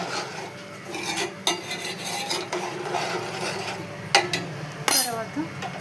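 Chili powder and salt are stirred into a pot with a spoon, producing scraping swishes and a few sharp metallic clinks against the pot, moderately close with a faint hum behind.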